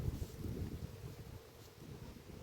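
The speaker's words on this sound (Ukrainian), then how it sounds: "Сьогодні вітряно." Wind gusts and buffets outdoors at an apiary, a low rushing rumble that rises and eases, moderately loud with no voices.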